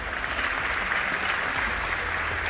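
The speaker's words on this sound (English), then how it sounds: "Can we give a big round of applause to Christina?" At an inventor award ceremony, an audience applauds a nominee named Christina: a brief, even wash of many hands clapping at moderate volume.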